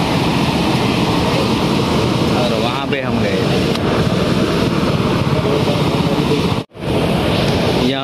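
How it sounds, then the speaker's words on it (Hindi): A flooded, overflowing river rushes with a loud, continuous broadband roar, someone speaking briefly over the churning water. "और ये आप पानी का रौद्र रूप देख सकते हैं।"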